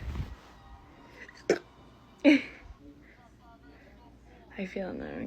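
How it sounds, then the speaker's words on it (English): A woman hiccups a few times, sharp short gulps spaced about a second apart, close and fairly soft, with quiet breathy sounds between them. "I have the hiccups, guys."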